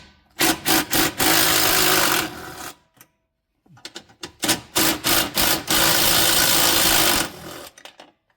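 A power tool buzzes in two long bursts, with short stuttering pulses before each, as 10mm bolts come off the front end of a 1997 Volkswagen Passat, loud and close with a brief pause between.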